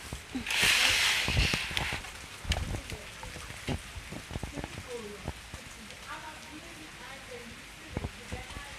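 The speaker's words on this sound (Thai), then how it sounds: "ฝนตก" Rain pattering on a surface close by, a heavier burst at the start followed by scattered drips and taps.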